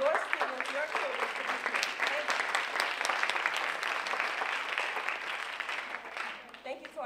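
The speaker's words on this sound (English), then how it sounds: "So parents, I want to give you all a hand, a round of applause as well" Parents at a first-year university convocation give a steady round of applause, dense clapping that holds at a moderate level for several seconds before tapering off, with faint voices mixed in.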